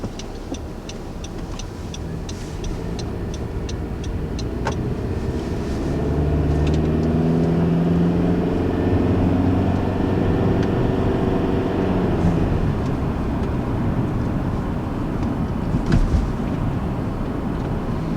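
A 2019 Honda CR-V crossover pulls away and builds speed, its engine drone rising and shifting in pitch over steady road and tyre noise heard from inside the cabin, with no talking.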